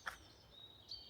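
Wood warblers, apparently a feeding pair, giving a couple of thin, high peep calls, one near the start and another toward the end, faint against quiet woodland background.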